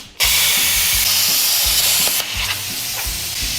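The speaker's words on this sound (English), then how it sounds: "We're gonna have to take a plasma cutter and cut this bolt off right here" A plasma cutter slicing through a spring bolt on an old GMC truck produces a loud, continuous hissing roar, with a brief dip partway through and a low rumble underneath.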